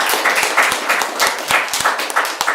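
Audience clapping at a talk show, a brisk patter of hand claps from a small crowd, fairly close and steady with no voices over it.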